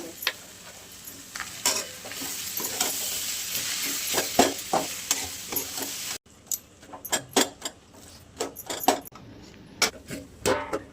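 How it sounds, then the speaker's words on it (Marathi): Potatoes tipped into a pan with turmeric and salt for a South Indian style yellow potato dish, a soft sizzle with scraping stirs and clattering spoon knocks, louder at first and then choppier and quieter after a sudden drop. "आपण आहे ना आता बटाटे टाकून घेऊया."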